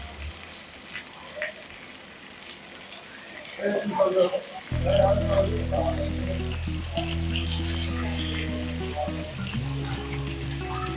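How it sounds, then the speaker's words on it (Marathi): Bangda mackerel shallow frying in a pan, a steady loud sizzle that starts abruptly partway through and continues with bubbling crackle, no talk. "बांगड्याच्या दोन्ही बाजू छान खरपूस भाजून झालेल्या आहेत"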